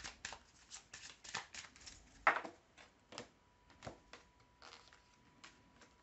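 A deck of tarot or oracle cards being shuffled by hand, quiet and close, with irregular soft riffles and taps spread across a few seconds.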